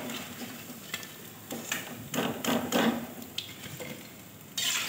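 Banana flower pakoras fry in a pan with a steady, fairly quiet sizzle and occasional stirring or scraping touches, heard alone without speech.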